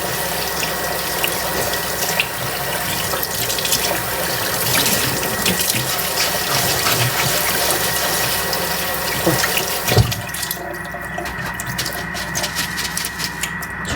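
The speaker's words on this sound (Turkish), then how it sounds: "Pirinçlerimizi iyice yıkıyoruz." Rice washed under a running kitchen tap makes a steady, close rush of water with light splashing throughout, shifting and thinning briefly near the end, with no talking.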